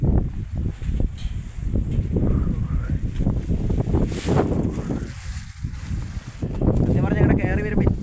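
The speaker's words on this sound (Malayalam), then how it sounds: "നല്ല കാറ്റടിക്കുന്നുണ്ട് കേട്ടോ കുടയെല്ലാം പാറിപ്പോകാനുള്ള ചാൻസ് കൂടുതലാണ്" Strong wind on a hilltop at Thabore Hills buffets the microphone in heavy low rumbling gusts, with voices speaking underneath.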